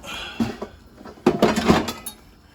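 A well-seasoned cast iron pan handled in a home kitchen, a few close clanks and knocks of metal, with a brief louder cluster of clatter in the middle and no talk.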